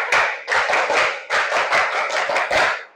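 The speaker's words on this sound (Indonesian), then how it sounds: "Tepuk tangan buat kelompok luas." Classroom applause for a student group, a small group of hands clapping close by in uneven bursts that swell and pause briefly before resuming.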